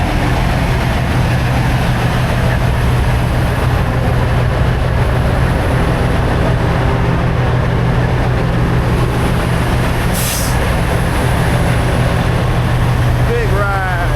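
Big truck engines rumble steadily in a late-night convoy heading to a truck wash, a constant loud low drone filling the whole stretch with faint voices underneath.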